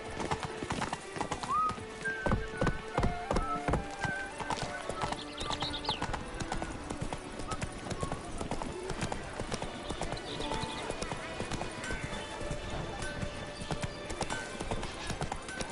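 Roach, Geralt's horse in Witcher 3: Blood and Wine, clip-clops steadily on hooves through a busy game scene, with a whinny and background voices mixed under the rhythmic footfalls.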